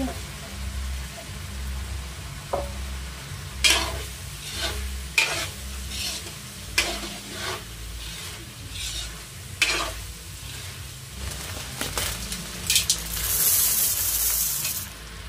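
A hotdog goes into a pot of sopas soup, followed by a steady stir with a light sizzle and bubbling, broken by several sharp utensil clinks against the pot, with a soft background hum.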